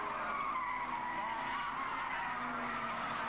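Saloon racing cars from a 1991 BRSCC Road Saloons championship round run side by side into a hairpin, with tyres squealing and skidding over steady engine roar throughout, loud and close with no talk.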